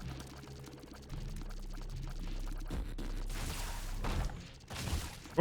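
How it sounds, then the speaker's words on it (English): The Lingering Bean item's sound effect in The Binding of Isaac: Repentance+, a string of crunchy, splashy bursts rising over steady game music in the latter half, moderately loud with no talking. "That's a new sound effect for Linger Bean."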